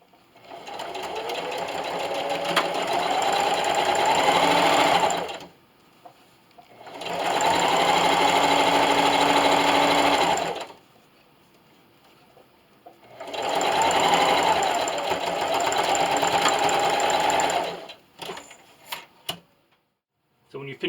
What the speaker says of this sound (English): I'm just going to take this over to my sewing machine with a 1/4 inch seam allowance